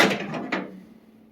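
Plastic vent piece sliding out from the top of a Samsung microwave oven, a short scraping knock and second clack near and fairly loud, fading into a faint hum.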